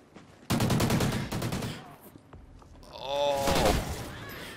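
Fully automatic gunfire in Call of Duty Ghosts gun game mode: two rapid, loud bursts of shots a couple of seconds apart, with a voice briefly overlapping the second burst.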